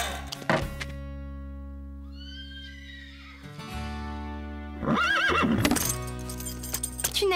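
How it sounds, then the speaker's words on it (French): An animated horse in a cartoon ranch setting neighs in a long, high whinny, and several sharp clip-clop hoof knocks sound at the start and again near the end, close and clear. "C'est vrai que Diablo est un cheval fougueux"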